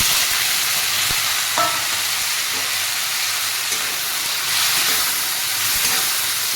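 Cluster beans sautéing with curry leaves and turmeric in a hot pan give a steady, close sizzling hiss, with a few soft scrapes from stirring and no voices.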